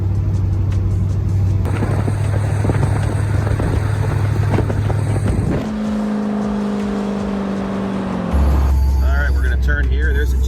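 A 1978 Chevrolet Camaro in need of an alignment drives toward a muffler shop, its engine droning loudly and steadily from inside the car, the pitch shifting as it changes speed.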